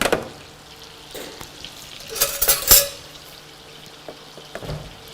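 Hot oil sizzling in a pan while hamsi pilavı and keşkek are prepared: a steady close hiss with brief louder crackles and a few light clinks of utensils, no one talking.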